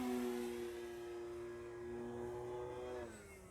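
A Dynam PT-17 radio-controlled biplane's electric motor at full throttle, a steady high whine with strong harmonics that dips slightly at the end as it passes, faint and moderately distant.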